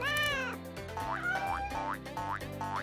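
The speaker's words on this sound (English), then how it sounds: "Minnie is playing with her cat in the children's room." A cartoon cat gives several bright meows in a row over bouncy background music, each call rising and sliding in pitch, close and clear.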